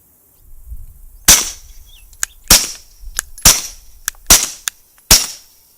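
Suppressed pistol shots from a SIG P365 fitted with a Dead Air Primal suppressor crack out five times at an uneven pace, each a sharp, loud report with a short tail, with a few faint clicks between them and no talking.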